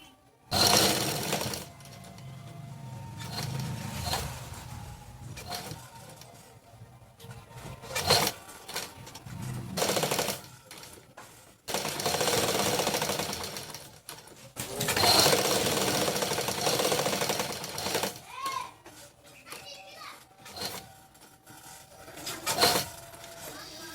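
A sewing machine stitches fabric in bursts, its rapid mechanical chatter starting and stopping between quieter pauses with room noise, nearby and fairly loud.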